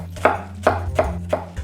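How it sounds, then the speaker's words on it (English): A knife chops an onion on a cutting board for Syrian egg fritters, four crisp, evenly spaced thuds in quick succession, close and alone. "otherwise you want to just chop the onion"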